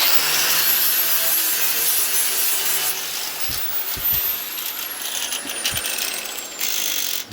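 Lawn mower blade being sharpened by hand, a continuous close rasping scrape repeated in steady strokes along the cutting edge, with a few sharp knocks toward the end and no voices.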